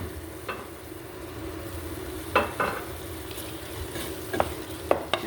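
Tomatoes tossed into a hot frying pan for addas with upo, a steady sizzle under a few distinct scraping stirs of the spatula, close and moderately quiet, with no talking.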